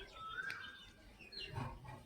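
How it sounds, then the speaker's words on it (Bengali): An Asian koel calls faintly from trees somewhere off in the distance, a thin, brief call rising above a soft, airy outdoor background. "আর এই যে বসন্তের কোকিলের ডাক, শুনতে পাচ্ছ?"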